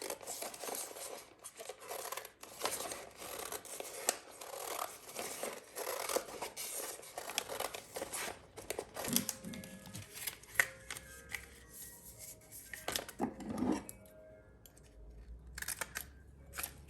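Scissors trimming parchment paper down to size, a run of quiet snipping and crinkling paper rustles, close and faint, with no talk.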